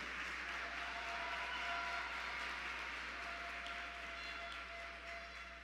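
Distant audience applause fills a hall at a regional oratory contest final in Coclé, Panama, a steady soft wash of clapping over a low hum that gradually tapers off.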